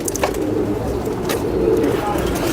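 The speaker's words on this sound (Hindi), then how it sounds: "ये टोपीदार कबूतर है" Crested pigeons cooing softly in the background while someone talks over them.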